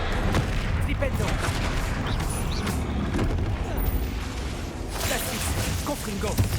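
The Flipendo spell is cast in the Hogwarts Legacy video game, heard as dense booming blasts and crackling impacts that fill the scene, with a voice speaking over the game sounds.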